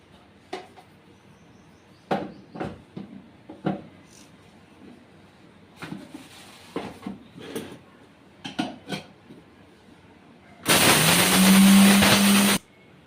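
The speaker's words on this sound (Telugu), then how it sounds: "వేపుకున్న మసాలాలు మిక్సీ పట్టుకుందామండి" A kitchen mixer grinder roars loudly for about two seconds as it grinds roasted spices for a fish curry, after a stretch of scattered clinks and knocks of utensils being handled.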